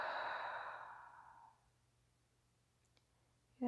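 A long, soft exhale during a yoga session, loud and breathy at the start and tapering away over about a second and a half, followed by near silence and a faint click.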